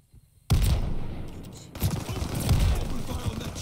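Gunfire in the video game Call of Duty: Vanguard erupts after a brief quiet moment, a loud sustained barrage of rapid shots with booming bursts that keep rolling through the clip, while a voice speaks faintly underneath.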